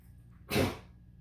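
A dog gives a single sharp, breathy sneeze, close by and brief, against a quiet room hum.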